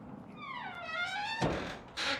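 The heavy rear door of a Delco 6x12 enclosed cargo trailer swings on its springs with a rising creaking squeal, then closes with a firm thunk, followed by a second softer knock.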